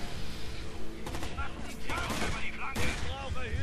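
Gunfire in the video game Rainbow Six Vegas 2 during a headshot, several short sharp bursts and single cracks mixed with game effects, moderately loud, with a voice talking during the action.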